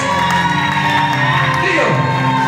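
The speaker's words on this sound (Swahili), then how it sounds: "Piga makofi na vigelegele kwa Yesu." A church congregation clapping and ululating in praise during a service, a loud continuous wall of cheering voices with wavering high trills throughout.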